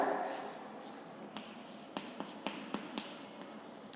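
Chalk or marker writing on a classroom board makes a quiet run of short, irregular taps and scratches after a faint initial rustle, sounding close but soft with no speech.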